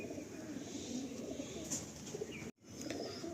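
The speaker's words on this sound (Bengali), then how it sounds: "বাহ, কত সুন্দর একটা কালসিরা সেট দেখুন।" Kalsira pigeons in a loft coo in a steady low murmur, with several birds overlapping close by and a brief dropout near the end.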